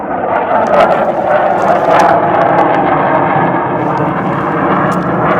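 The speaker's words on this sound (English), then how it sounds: "And there goes the fighter jet." A fighter jet flies past overhead, a loud broad roar that swells and holds for several seconds, with faint crackling texture on top and no speech over it.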